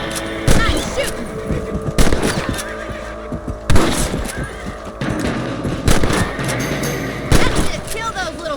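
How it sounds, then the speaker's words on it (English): Rifle gunfire in the Red Dead Redemption video game while hunting rabbits: sharp, loud single shots spaced about every second or two, with booming echoes between them. "Nice shooting."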